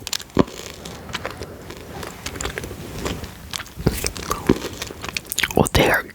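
Cola bottle gummy sweets are chewed close to the microphone with soft, wet, irregular mouth sounds and occasional louder bites, mixed with quiet whispering.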